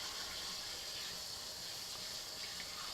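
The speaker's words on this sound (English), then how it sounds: "I'm going to run sink water over it" Sink tap water runs steadily over sea moss, a continuous close hiss and splash with no breaks or talk.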